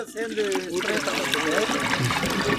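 Water trickles and splashes as it is poured during the cleaning of aloe vera gel, a close, continuous dribble with a voice talking over it.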